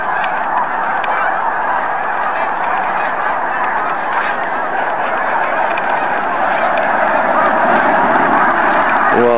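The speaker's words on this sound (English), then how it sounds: "Look at all the geese." A large flock of geese honks continuously and loudly, a dense unbroken chorus of calls that swells slightly toward the end, with no talking.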